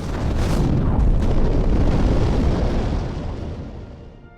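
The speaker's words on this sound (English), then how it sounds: "The core heats up, rapidly reaching billions of degrees, and finally, it goes supernova." Supernova explosion sound effect, a loud deep roaring blast that holds for a few seconds and then slowly rumbles away into silence.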